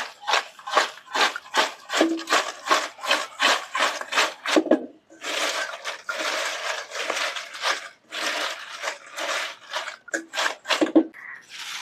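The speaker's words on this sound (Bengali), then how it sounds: "এবার ভালো করে মিশিয়ে নেব।" Dry, crunchy rustling of fried potato chips being tossed with beet salt, in rapid repeated scraping bursts with a brief pause midway, close and clear with no talk.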